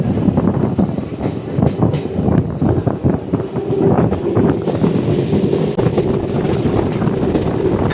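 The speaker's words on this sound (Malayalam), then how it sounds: "അങ്ങനെ കൃത്യം 11:30 തന്നെ നമ്മുടെ ട്രെയിൻ KSR ബാംഗ്ലൂരു റെയിൽവേ" A superfast train pulling out of KSR Bengaluru railway station makes a loud, continuous rumble with rhythmic wheel clatter, heard from close by with some wind noise throughout.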